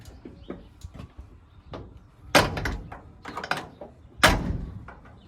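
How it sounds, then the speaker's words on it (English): A GMC C6500 dump truck door is pushed shut twice with solid thunks, separated by quieter rattles and handling noises nearby. "Door shuts."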